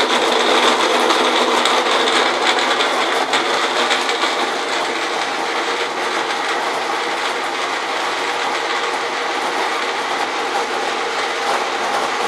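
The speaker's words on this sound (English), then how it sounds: "a mixture that will bounce around in the magic bullet" A Magic Bullet blender whirs through a mix of dates, seeds and nuts, a continuous loud grinding roar with rattling chunks, steady throughout with no speech.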